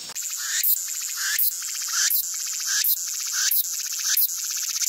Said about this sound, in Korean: 매미가 자꾸 지금 파닥파닥 거리네